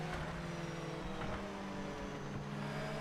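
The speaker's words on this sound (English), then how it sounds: "I hear him shift up to second." A race car engine in the Project Motor Racing video game shifting up to second gear, a quiet, steady droning motor tone with a slight pitch change partway through.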